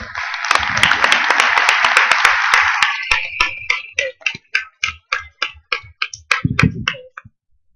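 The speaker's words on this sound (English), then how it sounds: "Can we have a round of applause for Matt before we all leave tonight?" Applause from a conference audience swells as a thick burst of clapping, then thins out into scattered individual claps that slow and fade to silence.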